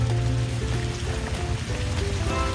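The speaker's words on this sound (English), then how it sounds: "It just keeps raining, doesn't it? It's been raining all day." Steady rain falls just outside a porch on a wet day, a continuous close patter with a faint tonal hum running underneath and no talking.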